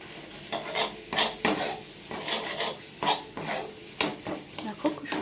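Ash gourd peel paste stir-fried in a wok: close, steady scraping and clinking of a spatula against the metal pan in uneven strokes, with a light sizzle underneath and no voices.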